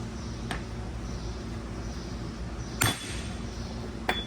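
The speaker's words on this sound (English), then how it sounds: "Set it on there and just hammer it in." A hammer drives a torque converter seal into a Camaro 8-speed transmission in a workshop: three sharp metallic strikes, one early, a louder one near the middle and a last one at the end, over steady background noise.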